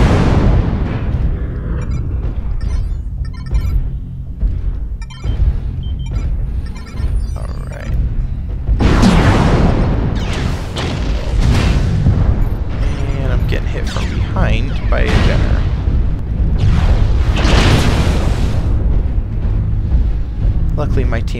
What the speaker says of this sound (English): Alright, so we'll just open fire from here.